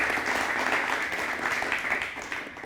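A talk show audience on breast cancer awareness in Palangka Raya claps together, a dense, even patter of many hands that holds steady for a few seconds at moderate volume.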